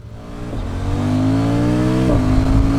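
Motorcycle engine revving on the road, building from idle into a rising, steady drone with a brief dip near two seconds as it shifts, close and loud with no talk.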